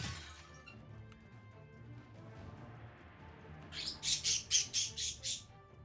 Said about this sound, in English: Yes, I am recording in the afternoon, so we have excitable birds.